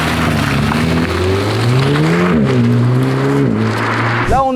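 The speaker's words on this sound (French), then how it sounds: "c'est le moteur de la Mégane KTRS qui est juste en face" Renault Mégane engine revving up close, rising and falling throttle blips with a sharp climb at the very end, loud and alone.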